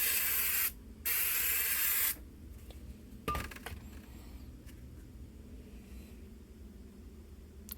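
Gorilla Glue weather seal sprayed from an aerosol can onto EVA foam for cosplay: two loud, steady hissing bursts of about a second each, followed by quieter handling clicks and faint rustling.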